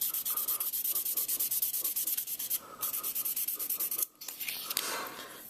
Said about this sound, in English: Super fine sandpaper.